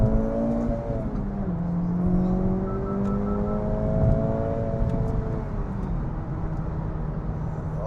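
Acura Integra Type S pulling hard in second gear, its engine note rising in steady sweeps and shifting pitch as it revs, heard from inside the car with steady road noise underneath.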